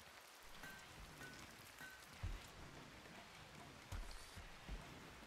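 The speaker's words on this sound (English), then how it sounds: "Nice heavy rain outside." Heavy rain outside in the Rimworld video game, a constant dense patter of raindrops on surfaces, fairly faint, with a few low thuds breaking through the steady hiss.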